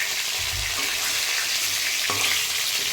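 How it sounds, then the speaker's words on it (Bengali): Fish frying in a pan gives off a constant crackling sizzle, close and steady, with a faint stir or splash partway through. "আরেকটু ভাজা হবে কারণ পেঁয়াজ দিলে মাছ আর ভাজা হবে না"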